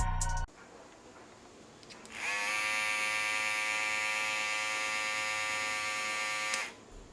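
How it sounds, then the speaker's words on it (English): An Andis M-Force hair trimmer switches on and runs for about four seconds with a steady, fairly quiet electric buzz, close up, before switching off, after a short click at the start. "Now that's definitely quieter than the last trimmer Andis put out."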